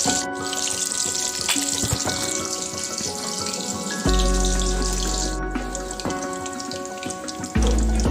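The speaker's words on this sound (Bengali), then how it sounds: "হালকা লালচে লালচে করে ডিমগুলো ভেজে নেব" Eggs frying in oil in a pan, giving a steady crackling sizzle throughout, with a low tonal hum that swells near the middle and again at the end.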